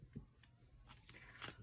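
Tarot cards being shuffled by hand in a quiet room, giving a few short papery riffles and soft slaps that come close together over under two seconds, without talk.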